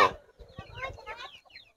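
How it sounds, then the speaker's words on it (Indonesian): A brooding hen clucks close by in short, soft bursts, with faint talk in the background. "Ayam lagi mengeramkan ini."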